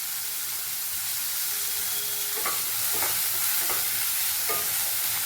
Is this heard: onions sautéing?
yes